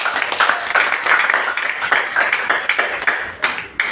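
A church congregation claps together for Jesus during a sermon: dense, fast, continuous clapping that stays loud and close for the whole stretch.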